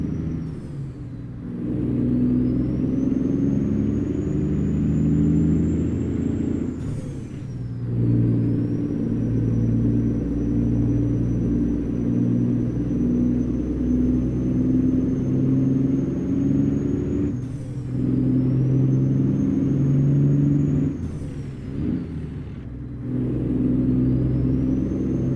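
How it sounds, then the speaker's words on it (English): A California-spec heavy haul semi truck climbs a hill, its engine a loud, steady low drone with brief dips and whines as gears shift a few times, heard from inside the cab. "Truck likes to not split the gears as fast as I would want it to."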